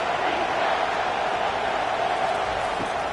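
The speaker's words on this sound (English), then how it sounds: "Third down, and this crowd is tearing the lid off this place." A football stadium crowd roars on third down in a Tennessee Volunteers game, a dense, steady wall of cheering noise that fills the whole stretch without letup.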